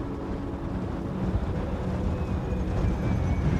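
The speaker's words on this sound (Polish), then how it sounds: "ten podmuch wiatru." Strong gusty wind roars steadily outdoors on a hilltop, buffeting the microphone with a dense, rumbling wash that swells slightly without pause.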